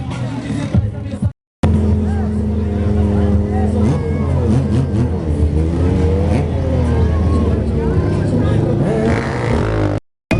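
A loud motorcycle engine roars and revs continuously at a motorcycle show at Parque Imperial, with crowd noise and babble mixed underneath, the pitch rising and falling as it accelerates.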